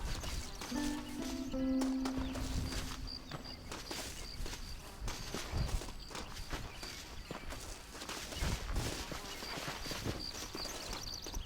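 Hooves of a horse-drawn wagon in the video game Red Dead Redemption, soft irregular clip-clop steps close by with a brief whinny-like tone early on and faint ambient insects and birds behind.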